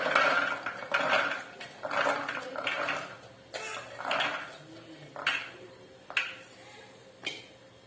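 Chickpeas tumble into a blender jar with a series of short clattering rattles, like dishes and utensils clinking, close by and moderately loud.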